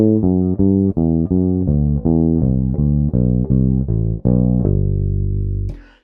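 Bass guitar descends through a scale in thirds, in time: a steady stream of deep plucked notes at an even pulse, close and prominent, ending on a longer ringing note. No speech.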